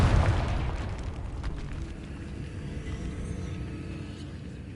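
A Confringo blasting spell goes off in Hogwarts Legacy: a deep, booming burst at the start that rolls into a long, fading low rumble, with no voices.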